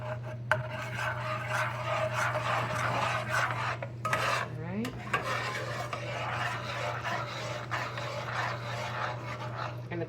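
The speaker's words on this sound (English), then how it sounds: "Scrape the sides, make sure you got all those ingredients incorporated together." A utensil stirs and scrapes custard ingredients around the sides of a pot, a steady close rasping rub with occasional clinks against the metal, continuous throughout and without speech.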